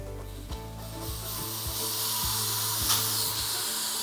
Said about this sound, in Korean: 천천히 압을 빼보도록 할게요.